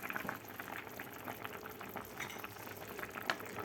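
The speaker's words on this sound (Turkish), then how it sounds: "Evet arkadaşlar yemeğim pişiyor." Spinach borani bubbles and simmers in a pot, giving a soft, steady crackle of boiling liquid with small pops, close and quiet.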